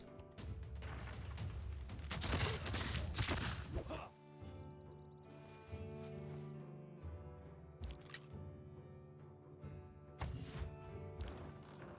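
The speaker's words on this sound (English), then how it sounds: "Oh, hey, field cannon." Field cannon fire in Civilization VI: Gathering Storm on PC, a dense, loud burst of booming crashes lasting about two seconds, followed by quieter game music and ambience.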